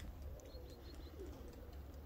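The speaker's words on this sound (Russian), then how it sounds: "Очень много голубей." A large flock of pigeons wheels overhead in open sky, soft cooing and scattered chirps drifting over a steady low outdoor rumble, fairly faint and continuous.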